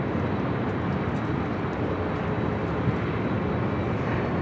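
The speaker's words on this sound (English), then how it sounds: "A Southwest flight heading to Baltimore, flight 966, 737 MAX 8, now rolling down to 24 left." A Southwest Boeing 737 MAX 8 rolls for takeoff on runway 24 left at LAX, a steady, loud broadband jet roar that holds evenly throughout without any voices.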